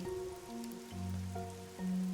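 Rain falling in the Master Detective Archives: Rain Code video game over a huge city, a steady soft patter on surfaces running throughout under sustained musical tones.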